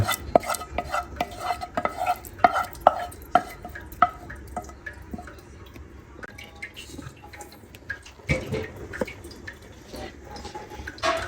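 Spoon stirring a thick jaggery mixture in a pan for a sweet snack, giving wet scraping strokes and soft drips in a steady rhythm, close and moderately loud with no voices.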